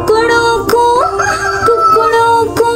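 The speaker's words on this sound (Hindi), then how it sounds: "मुर्गा बोले कुकड़ों को" A rooster crows with drawn-out, rising and falling calls set in a children's animal-sound song, with sharp clicks and musical tones around it.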